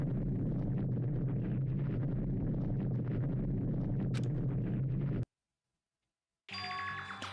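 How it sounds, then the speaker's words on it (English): A dramatic door-opening effect in the Danganronpa video game: a dense, loud rumbling swell that cuts off abruptly into silence, then a bright ringing, chiming tone bursts in. "That was quite a dramatic sound for that door opening."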